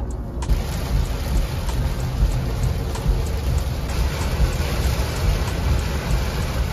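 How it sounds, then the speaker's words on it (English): Steady rain falls outdoors in Ghana as a dense, even hiss of drops that stays close and fairly loud throughout, with no talk over it. "It's raining."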